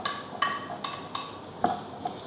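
Onion sautéing in a pan, a soft continuous sizzle punctuated by several light scraping stirs and taps of a utensil at a close distance, without speech.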